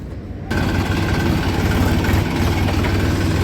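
A tractor engine idles loudly and close after a sudden start, a steady low rumbling drone with vibration that holds even throughout, no speech heard.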